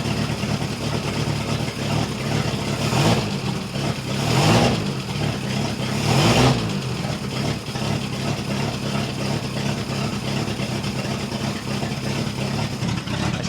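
A 1966 International pickup truck engine idles roughly with a loud, harsh exhaust, giving three short revs that swell and fade against a steady close rumble.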